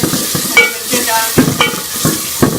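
Tomatoes and green chilies fry in a masala base for urad dal, giving a steady sizzle broken by repeated scraping stirs of a spoon against the pan, close and moderately loud.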